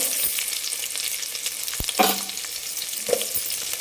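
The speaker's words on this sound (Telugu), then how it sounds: "ఇవన్నీ బాగా వేగించుకోవాలి కొంచెం కలర్ మారే వరకు" Onion, cashews, curry leaves and whole spices fry in hot oil and ghee for tomato rice, sizzling steadily up close, with a few sharp clinks and scrapes as the pan is stirred.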